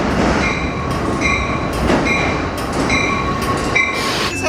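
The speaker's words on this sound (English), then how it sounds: "This has to be my favorite Amtrak consist of them all." An Amtrak two-car shuttle train at a station on the Hartford Line, a loud close rumble of rail cars with metallic squeals and clicking wheels throughout.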